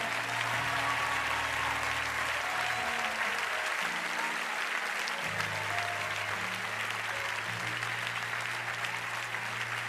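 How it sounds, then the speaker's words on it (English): Sustained, loud applause from a Baptist church congregation fills the space evenly, with held organ chords droning beneath the clapping. "Come on, y'all got to clap for them."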